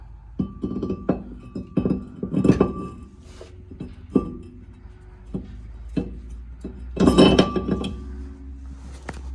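A new brake disc rotor for a Ford Falcon XR6 is slid onto the hub, producing a series of sharp metallic clinks and knocks, some ringing, spaced irregularly and close by with no talk.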